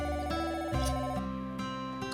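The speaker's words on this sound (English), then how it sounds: "I hear the phone ringing." A telephone rings in a video game, an electronic ringtone with repeated tonal bursts over a soft musical backdrop, clear and close.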